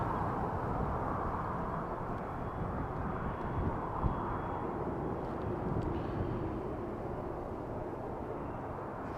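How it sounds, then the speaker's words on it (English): An EasyJet Boeing 737 taxis toward the runway threshold at Amsterdam Schiphol, heard as a steady, broad jet-engine roar that stays level and fairly distant throughout, with no talking. "Next up is an EasyJet 737. Also taxiing to the threshold."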